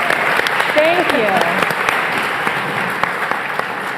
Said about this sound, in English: How about a big round of applause for Secretary Franklin?